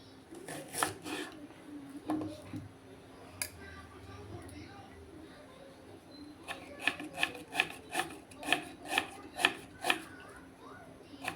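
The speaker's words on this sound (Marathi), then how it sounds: "हे बघा, असं बारीक एकदम चिरून घ्यायचं." Onion is finely chopped with a knife on a board in a home kitchen, a run of quick, crisp, evenly spaced knocks near the end after softer scraping and rubbing.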